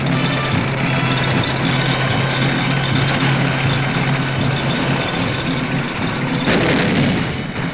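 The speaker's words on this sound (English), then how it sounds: "Our tanks come ashore and grind inland." Tanks grinding ashore and inland during the 1945 Iwo Jima landing, a loud continuous engine drone and rumble with heavy booming bursts throughout and no talk.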